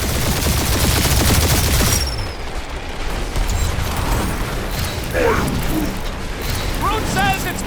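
Rapid gunfire rattles through a battle in Marvel's Guardians of the Galaxy, with dense mechanical bursts, booms and energy-weapon zips. Character voices shout over the continuous combat noise.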